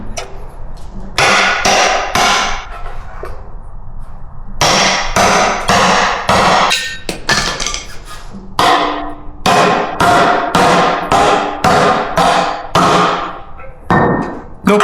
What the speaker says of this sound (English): Got a chisel.